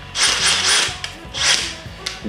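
A 15mm socket clicks and ratchets onto a drill socket adapter: several short metallic rattling bursts close up, with sharp ticks between them.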